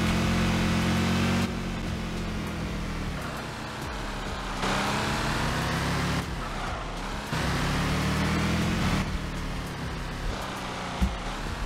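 A car engine idles and revs loudly and close by, with a rough droning note that swells and drops in several stretches. The roar masks everything else and there is no speech.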